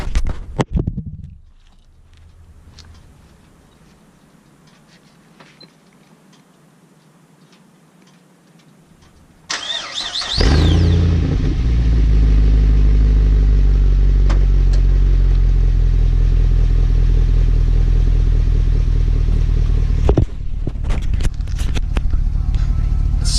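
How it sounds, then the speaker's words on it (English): A 2006 Pontiac GTO with the 6.0 V8 cranks and fires up close to the exhaust, with ticking and clatter first, then a sudden loud roar that settles into a deep, rumbling, low idle. "Get a little start up for you guys right here by the exhaust"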